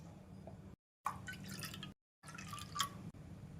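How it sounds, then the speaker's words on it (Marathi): Water drains and drips from barnyard millet being rinsed in a bowl during preparation of a fasting curd rice, heard as close trickling and dripping bursts separated by two brief silences, with no voices. "आता याला 3-4 पाण्याने स्वच्छ धुवून घेऊ"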